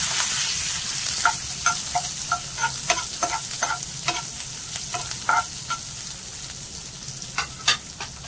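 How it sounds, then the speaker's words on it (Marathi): Onions and curry leaves are stir-fried with chana dal in a pan, a steady close sizzle broken by frequent sharp scraping and tapping strokes of a spoon against the pan. "त्यानंतर टाकायचे आपल्याला कांदे टाकायचे आणि कढीपत्ता टाकायचा आहे, तो पण चांगला परतवून घ्यायचा आहे।"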